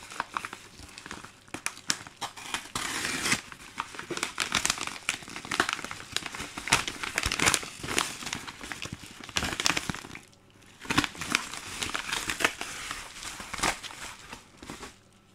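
Yellow envelopes being opened slowly, with steady paper crinkling and crumpling that continues nearly throughout, dipping briefly before picking up again.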